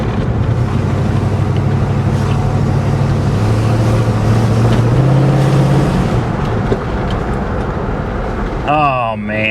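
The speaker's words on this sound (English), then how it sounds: "Listen to that engine purr." A 1974 Chevy El Camino engine idles loud and steady in a low, even rumble, with voices talking over it and a brief whistle-like sweep near the end.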